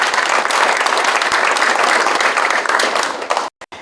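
An audience in a large auditorium applauds to welcome guests at a formal industrial-complex association ceremony, with dense, loud, sustained clapping that fades and cuts off abruptly at the end.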